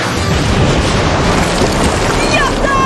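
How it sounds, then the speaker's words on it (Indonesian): Anime fire spell blast rendered as a huge, nuclear-scale explosion that destroys a mountain: a loud, continuous roaring rumble of dense noise that fills the whole stretch without pause. "api kecil yang dia bayangin malah meledak jadi ledakan nuklir yang ngancurin gunung"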